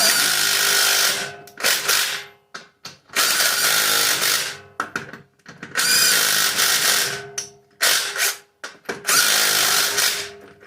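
A power tool tightens Chevrolet Camaro wheel lug nuts one after another in a star pattern, giving loud bursts of high whirring and ratcheting, each lasting one to two seconds, with short pauses between.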